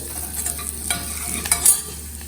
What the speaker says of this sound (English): Then haldi, stir it. The haldi should not burn.